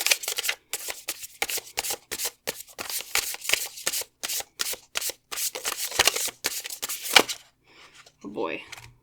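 Tarot cards being shuffled by hand in a run of close, crisp riffling bursts with short gaps, fading near the end into faint handling noise and a soft voice.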